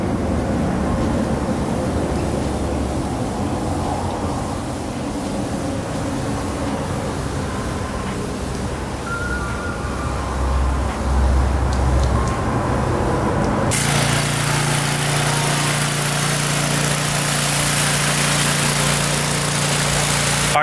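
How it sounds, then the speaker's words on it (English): A pressure washer rinses a polished aluminum 1950 Airstream RV. A motor hums steadily for a long stretch, then a loud, broad hissing spray starts abruptly and continues to the end. "rinse it off with a pressure washer"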